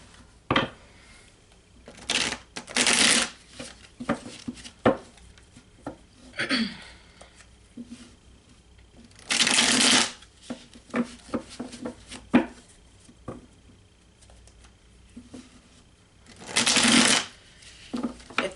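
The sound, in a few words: shuffling a deck of reading cards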